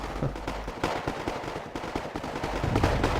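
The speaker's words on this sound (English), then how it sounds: "A single artillery piece just keeps firing out from their base." Booming artillery gunfire in a video game, a single piece firing out from an enemy base, repeated blasts in a dense, continuous rumble of battle with sharp reports throughout.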